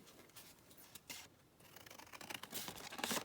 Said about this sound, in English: I'm going to just trim this down.